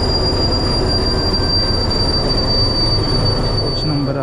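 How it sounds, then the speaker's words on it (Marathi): A Jan Shatabdi Express pulls into a crowded platform, its wheels squealing with a sustained high-pitched screech over a loud, steady rumble of rail cars, continuous throughout. "ही आपली ट्रेन आलेली आहे."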